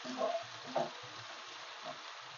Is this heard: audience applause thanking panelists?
no